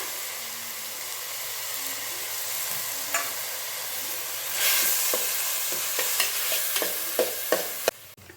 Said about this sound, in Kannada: ಈಗ ಎರಡು ಟೊಮೆಟೊನ ಕಟ್ ಮಾಡಿ ಎತ್ತಿಟ್ಕೊಂಡಿದ್ದೇನೆ ಅದನ್ನು ಹಾಕೊಂಡ್ಬಿಡೋಣ